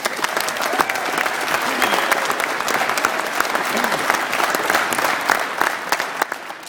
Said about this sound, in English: we all deserve a big round of applause for making this happen